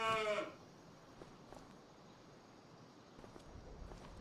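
A single cow in Farming Simulator 25 gives one short, loud moo right at the start, followed by quiet barn ambience with faint scattered knocks and shuffling.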